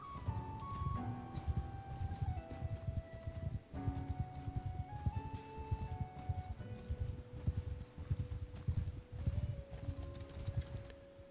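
Horses ride in Mount & Blade II: Bannerlord, their hooves keeping up a steady, continuous clip-clop over a background musical score, with no talking.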